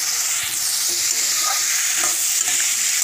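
Spices and vegetables frying in a pan for a Bengali fish curry while being stirred, giving a steady close hiss with a few soft scraping stirs over three seconds.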